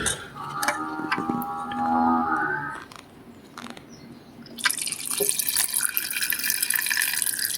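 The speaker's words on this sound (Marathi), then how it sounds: "यामध्ये पाणी ओतून घेतलं आहे" Water is poured into a pan for cooking Maggi noodles, a splashing, steady pour that follows earlier dripping and tap-like sounds, fairly close and alone without talk.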